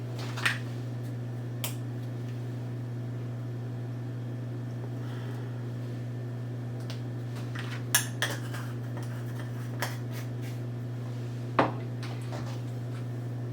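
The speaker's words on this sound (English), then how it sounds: "You have to mix it thoroughly." Spoon scraping and clinking against a bowl while biscuit dough is mixed with spice, a few sharp scattered knocks over a steady low hum, no talking.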